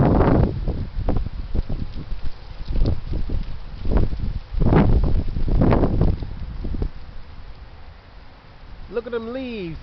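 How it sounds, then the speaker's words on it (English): Heavy wind gusts roar and buffet the microphone in uneven surges as leaves scatter and trees sway, and a voice talks over the gusts through most of it. "Look at them leaves scattering in the wind"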